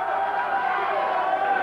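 A wrestling arena crowd at a USWA television show keeps up a steady roar of cheering and noise, loud and unbroken throughout.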